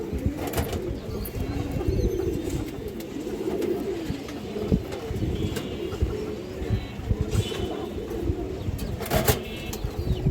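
Pigeons coo in a low, continuous murmur with occasional wing flaps, a flock of paired males and females including tagged hens, close and steady throughout with no voices.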